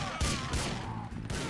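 A weapon in Grand Theft Auto IV fires three loud, close bursts, each with a sharp onset and a short decay, over a low game backdrop.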